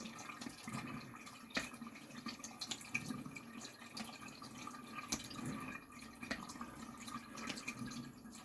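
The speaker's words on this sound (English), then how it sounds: "Running water." Tap water running steadily and faintly while a Puma 90 HighClass razor is honed on a Japanese natural stone, with scattered light clicks and drips over the soft flow and no speech.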